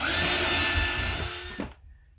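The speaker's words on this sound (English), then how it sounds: "first thing I need to do is just make a little pilot hole" A power drill whirs steadily at close range as it bores a small pilot hole into a wooden cutting board, then cuts off abruptly near the end.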